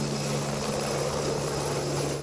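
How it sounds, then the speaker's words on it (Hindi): A helicopter from the Amarnath pilgrimage shuttle service drones steadily with no break, its rotor and engine hum steady and broadband throughout, moderately loud, with no voices over it. "थाने प्रशासन की ओर से अमरनाथ धाम के लिए चलाई जा रही ये हेलीकॉप्टर सर्विस"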